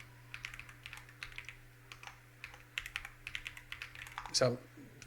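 Rapid keystrokes on a computer keyboard come in quick uneven bursts, close but fairly quiet, over a faint steady hum, with a voice heard briefly between the clicks.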